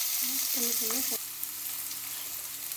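Onion, tomato, ginger and garlic sautéing in oil for a paneer gravy: a steady, close sizzle that stays even throughout, with a brief tonal squeak partway in and then continued frying.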